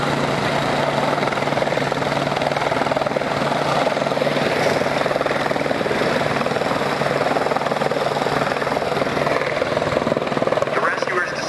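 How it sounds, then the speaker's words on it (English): Airline medical helicopter arriving at a staged mock car accident rescue scene, its steady rotor and engine drone loud and continuous throughout, with voices faintly mixed underneath. "the airline helicopter has been requested."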